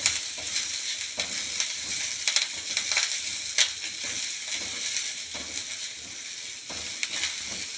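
Onion and garlic sizzle and fry in a pan while being made into a ridge gourd chutney, with a steady close hiss broken by occasional stirring scrapes and no voices.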